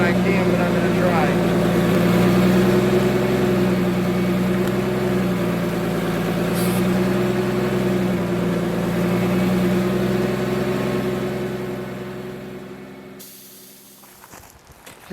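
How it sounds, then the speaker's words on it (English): A vacuum brake bleeder hooked to a car's wheel bleeder valve during brake bleeding gives a steady, loud droning hum with a hissy edge that holds for most of the time, then cuts off abruptly near the end. "I'm going to hook up the vacuum, put it on the wheel bleeder, pull the brakes in, crack it, and then bleed it"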